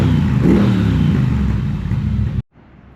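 A Triumph Bobber motorcycle engine runs and revs loudly up close, a rough mid-pitched roar swelling early then holding steady before cutting off abruptly, leaving a faint background.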